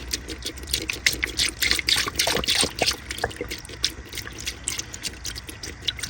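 Coolant poured into a 1.5T Honda Accord's cooling system, splashing and trickling in uneven bursts with drips and spills, close and moderately loud.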